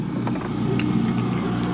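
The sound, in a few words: boat engine running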